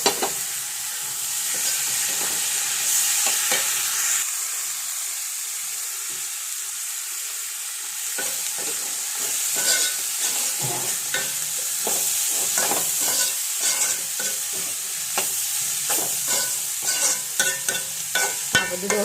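Cooked beans are stirred and fried in a hot pan: a spoon scrapes and clatters in irregular bursts over a low, continuous sizzle, close and fairly loud, with no voices.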